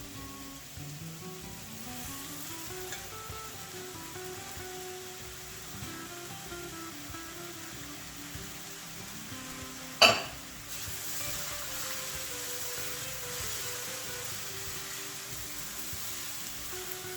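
Shrimp fried rice stir-frying in a hot pan, a steady close sizzle with faint scraping and turning throughout and one sharp clank of utensil on pan near the middle.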